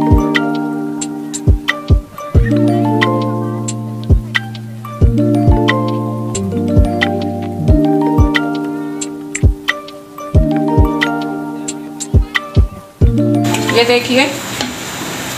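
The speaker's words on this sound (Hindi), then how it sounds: "तो चलिए अब हम इसे भुनेंगे और थोड़ा थोड़ा आपको दिखाते भी जाएंगे।" Chana dal roasts in oil in a pan for halwa: a loud, continuous frying sizzle runs throughout, punctuated by frequent sharp scrapes and knocks of a spoon stirring against the pan. A voice speaks briefly near the end.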